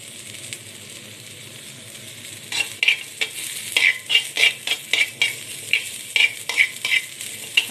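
Chili, shallot and garlic dry-roast in a pan over low heat, with a soft background sizzle overtaken by quick rhythmic clinks and scrapes of a utensil stirring against the pan.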